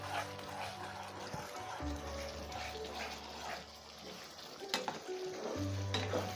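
Masala of cumin powder and red chilli powder fries in oil for fish curry, a soft continuous sizzle with stirring scrapes and clinks, fairly quiet, along with low background hum and a dog barking faintly.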